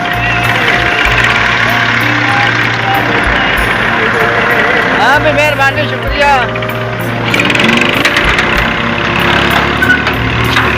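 A tractor engine runs steadily throughout, a loud continuous chugging drone with clanking mechanical noise, while someone speaks briefly over it.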